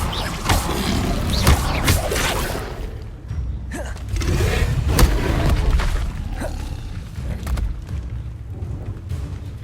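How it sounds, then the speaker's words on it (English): Booming fire-spell blasts from Hogwarts Legacy gameplay, a series of loud roaring bursts with crackling impacts and rumbling low end, repeated several times across the stretch without talk. "Incendio!"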